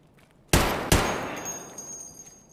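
Two loud, close gunshots fired in quick succession during a fight against Reshala's gang in a shooter game, each followed by a long echoing decay.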